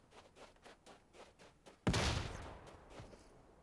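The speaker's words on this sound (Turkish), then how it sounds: "Bomba attılar." A thrown grenade explodes in the PUBG Mobile video game, a single sudden boom that decays, following a run of faint rhythmic footsteps or gunfire in the game audio.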